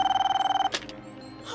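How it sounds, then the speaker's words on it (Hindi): A telephone bell rings in rapid trilling pulses, then stops abruptly, leaving a faint quiet background. "ये राजू फोन क्यों नहीं उठा रहा है?"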